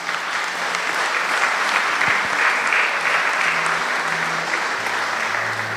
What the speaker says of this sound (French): On applaudit la maman.